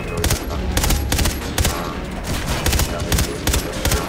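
Enemy gunfire in Far Cry 3: Blood Dragon, dense bursts of rapid automatic shots that repeat in clusters throughout, loud and continuous with brief gaps.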